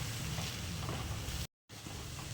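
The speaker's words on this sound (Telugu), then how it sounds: "ఇప్పుడు ఇదంతా కలిసేలాగా మంచిగా ఒకసారి మనం కలిపేసుకోవాలి." Egg curry with capsicum, chilli powder and turmeric sizzling in a pan as it is stirred, a steady frying hiss close by that cuts out briefly and resumes.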